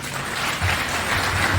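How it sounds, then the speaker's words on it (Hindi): Audience clapping at a town hall meeting in Motihari, a dense continuous patter of many hands heard briefly and fairly loud, with no talk over it. "अगर हो सकते हैं तो ताली बजाइए"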